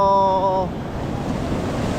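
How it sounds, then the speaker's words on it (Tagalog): A brief whistle-like tone fades into the constant rush of strong ocean waves crashing at a shallow beach in La Union, Philippines, and wind. "Nakakatakot yung alon eh oh. Lakas eh."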